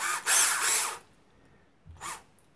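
A Parkside 12V cordless drill whirs in a loud burst for about a second, stops, then gives a short second spin.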